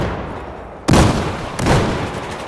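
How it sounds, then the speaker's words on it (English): Two loud grenade blasts in the shooter Battlefield 4 during a 5v5 defuse scrim, the first abrupt broadband boom about a second in, a second slightly softer one half a second later, each trailing into a rumbling decay. "Crowding dropping a couple nades. 3 nades for good measure."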